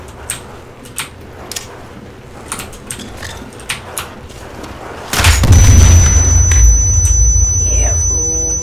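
A grenade goes off in a zombies shooter game: light clicks and taps, then a sudden loud boom that rolls into a sustained rumble with a thin high ring over it.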